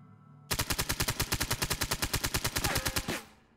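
A pepperball gun in the video game Ready or Not fires a fast, steady stream of about twenty-five evenly spaced, punchy pneumatic shots, loud and close, before the burst cuts off and the sound fades.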